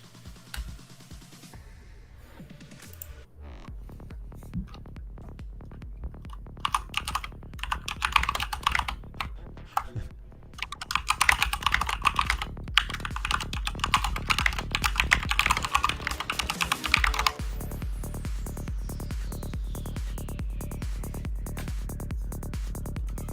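Fast, continuous computer keyboard typing close up, a dense stream of sharp key clicks that grows louder and busier midway, with no talking.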